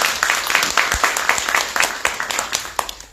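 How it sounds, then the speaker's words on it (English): Community meeting audience giving a round of applause for Ms. Bell, a modest group clapping with distinct individual claps audible, fairly close and moderately loud. "Let's give Ms. Bell a round of applause"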